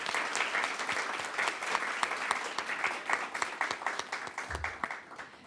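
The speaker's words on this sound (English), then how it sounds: "Let's give them a big round of applause first." A town council meeting audience claps for an award-winning family, a sustained burst of applause that thins toward the end into scattered individual claps.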